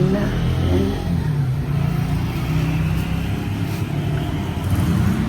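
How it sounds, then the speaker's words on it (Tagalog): Road traffic with cars and motorcycles passes beside a roadside house, a constant rumbling engine hum with passing swells, heard steadily from indoors without talk. "Sorry po, maingay ang mga motor. Sa tabing kalsada ang aking bahay."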